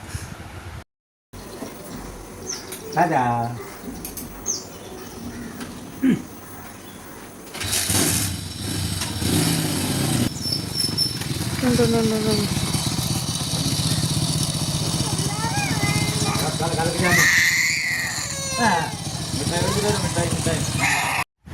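A motorcycle engine idles and runs steadily for a long stretch, fairly close, with people talking over it.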